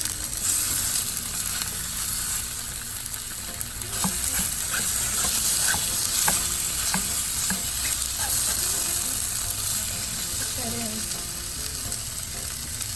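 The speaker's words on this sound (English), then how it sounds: "put our seasoned tofu in the pan. Let that brown up a little bit." Seasoned tofu browning in a hot pan, a loud continuous sizzle and crackle with scattered pops and a few utensil scrapes, close up and steady throughout without speech.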